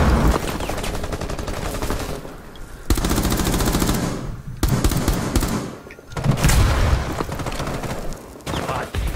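Rapid automatic gunfire in Rainbow Six Siege during a hostage round rattles loud and close in long sustained strings, breaking off briefly a few times before resuming, with little talk over it.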